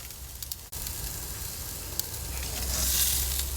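Steak sizzles steadily on a grill, a dense continuous hiss that swells slightly toward the end, close and loud with no talking.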